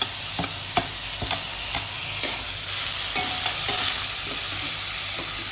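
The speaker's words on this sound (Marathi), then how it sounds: "आणि छान आता कांदा वगैरे परतून घेते" Onion and tomato sautéing in a pan, with a steady sizzle and repeated clinks of a spoon stirring against the metal, close and continuous with no voices.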